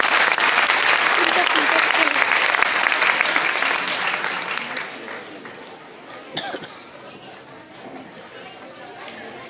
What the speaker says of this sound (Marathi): एकदा तीर्थासाठी जोरदार टाळ्या झाल्या पाहिजे